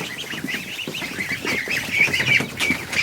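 A Chinese goose in a barn honks repeatedly from close by, with loud, nasal calls coming in a quick uneven series and no other sound competing.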